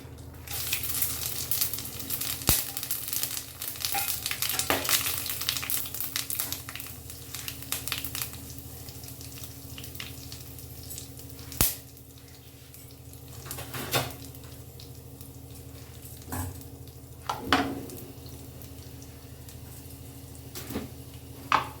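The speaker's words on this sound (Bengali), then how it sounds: "এবার এতে আমি একটু ফোড়ন দিচ্ছি। গোটা গরম মশলা, তেজপাতা, জিরে আর কয়েকটা শুকনো লঙ্কা।" Whole garam masala, bay leaf, cumin and dry chillies hit smoking-hot oil, a busy sizzle at first that settles to a softer fry, broken by occasional sharp clinks of a utensil on the pan.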